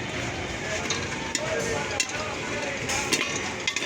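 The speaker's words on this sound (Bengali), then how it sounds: "অলরেডি যে একটা দুটো করে ফুটা শুরু হয়ে গেছে" Corn kernels in a popcorn machine pot start to pop, a few sparse sharp pops spaced over a steady hissing, crackling background, fairly close.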